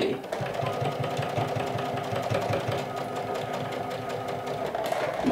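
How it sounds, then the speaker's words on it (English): Sewing machine restitching a curved seam on a jacket hood or collar, a steady close rapid mechanical chatter running continuously without pause. "I'm going to restitch a little bit there to make sure that my curve is nice and pretty."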